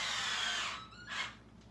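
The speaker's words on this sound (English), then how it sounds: "put that in my drill" A power drill spins a corn cob against the serrated edge of a small hand corn sheller, giving a loud whirring buzz that winds down, then a brief second burst of spinning before fading.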